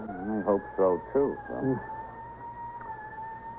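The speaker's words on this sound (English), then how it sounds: "you think that's the ambulance? Yeah, sounds like it." An ambulance siren in an old-time radio police drama, a sustained gliding wail that continues on its own after a brief line of dialogue at the start.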